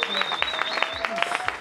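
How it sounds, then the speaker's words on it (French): Uneven clapping at a gospel church service, distinct sharp slaps spaced irregularly, with a sustained tone and some voices running underneath. "Applaudissez très fort."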